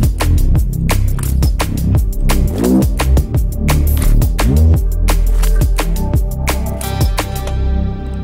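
Razor Reese bass synth pushed through a heavily driven limiter, a loud, dense, gritty low rumble pulsing in a steady rhythm with sharp repeated attacks, played alone.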